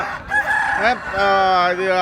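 A rooster at a Sankranti cockfight event in Bhimavaram crows loudly and close, its call breaking off and then carrying on in a long drawn-out crow.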